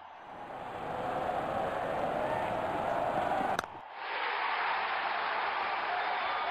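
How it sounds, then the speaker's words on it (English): Steady, loud stadium crowd roaring and cheering in the Real Cricket 20 video game during a 2 v 2 match, with a brief dropout before the roar resumes at full strength. "Crowd going mad here."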